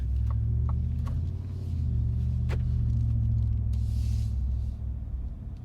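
From inside the cabin, a 2022 Ford F-150 5.0 V8 with a Flowmaster Super HP2 muffler makes a steady deep exhaust rumble that swells slightly midway, with a few faint clicks on top.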